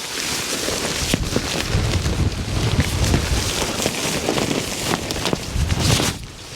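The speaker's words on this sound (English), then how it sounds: "as you can tell, it is pretty windy" Strong wind buffeting the microphone on an exposed cliff edge at a UK wild camping spot: continuous loud roaring gusts with rumbling low-end buffets, easing off sharply at the very end.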